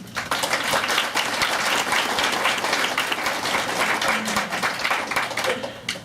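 A law school alumni audience at a Women in the Law speaker event gives Justice Kelly a warm welcome: sustained, dense clapping from a roomful of people, steady and even for several seconds.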